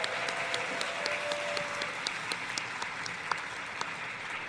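Audience applause with cheering for a returning mother at a welcome ceremony on her return to Korea, a steady wash of dense clapping sustained throughout at moderate distance.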